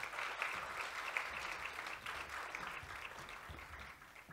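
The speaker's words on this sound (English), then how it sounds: "Let's give them another round of applause, please." A round of applause from an audience at a mid-year budget speech event, many hands clapping in a dense, steady burst that gradually thins toward the end.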